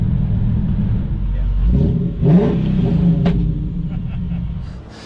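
Turbocharged Ford Barra engine roaring at a drag race, a loud rumbling run that swells around the middle and fades toward the end, with voices talking over it.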